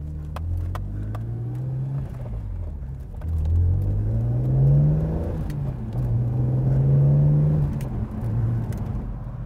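BMW Z4M from 2008 with a manual gearbox, its engine revving while driving: a deep, loud rumbling drone that swells in two rising surges of revs and then settles, heard close up with no talking.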